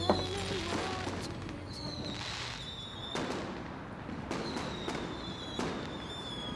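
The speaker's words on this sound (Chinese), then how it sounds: "外边放烟花呢，我们出去看吧。" Fireworks go off outside at night, heard as a string of sharp cracks and bangs with whistling streaks, moderately distant, over a steady background hum.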